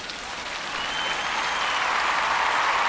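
Steady, dense rain hisses through a film scene, a continuous broadband wash that holds at an even, fairly loud level without a break.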